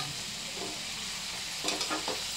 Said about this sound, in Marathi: आता काय हे लाल तिखट. हळद. हे मिक्स करते ना आई.